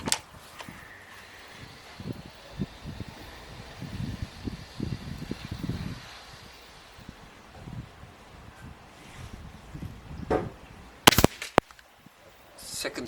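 A Gamo Black Maxxim IGT Mach 1 .177 air rifle fires a single sharp crack near the end, preceded by wind buffeting and rustling outdoors.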